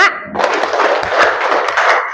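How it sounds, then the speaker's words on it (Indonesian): A group claps twice on cue during a teacher coaching session, giving a thick, sustained burst of close applause-like clapping. "Tepuk dua kali"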